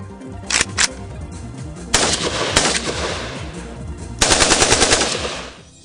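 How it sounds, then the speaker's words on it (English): Bursts of automatic fire from AK-104 and AK-105 assault rifles: a short double burst, then a sustained rattling string, and a final rapid volley of evenly spaced shots, loud and close with no talking. "AK-104, AK-105 assault rifles are the weapons made specially for the airborne troops, marines, and forces of special deployment"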